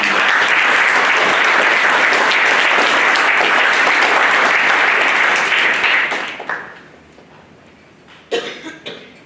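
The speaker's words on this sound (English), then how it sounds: "So let us give a round of applause to all parents." Loud, dense applause from an audience at a JROTC commissioning ceremony, held for about six seconds before trailing off into scattered claps, a cough and a few throat clears in the quieting hall.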